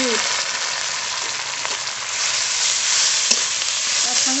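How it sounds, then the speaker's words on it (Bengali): Chopped onion, tomato and turmeric frying together in a pan, a steady close sizzle with occasional stirring scrapes and soft knocks of a utensil throughout. "একসঙ্গে ভালো করে ভেজে নেব"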